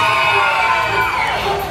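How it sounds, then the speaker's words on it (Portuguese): A dense Brazilian crowd in a public square during a World Cup match roars with steady, loud shouting and cheering that fills the whole moment. "Cadê o grito dos brasileiros sofredores"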